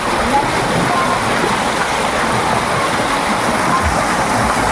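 A loud, continuous rush of water flowing from a fountain fills the clip, a steady splashing wash with no pauses.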